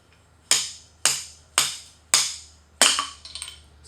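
Five sharp metallic clanks from a slide hammer motion pulling apart a Kawasaki KL250 Super Sherpa motorcycle fork, struck at a steady half-second rhythm, close and loud, the last blow followed by a rattling scrape.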